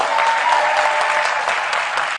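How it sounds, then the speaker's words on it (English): Dense, sustained clapping from an audience at a party gathering, loud and even throughout before cutting off sharply at the end. "Let us, in appreciation, also clap for the next assignment God has for him"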